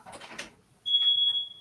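A fire alarm goes off indoors, a loud, steady high-pitched electronic tone that starts partway through after a stretch of muffled clatter and continues unbroken to the end.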